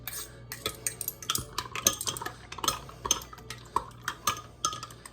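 A spoon briskly stirs a yeast mixture for focaccia in a bowl, producing rapid, irregular clinks and taps of metal against the dish, close and fairly quiet with no talking.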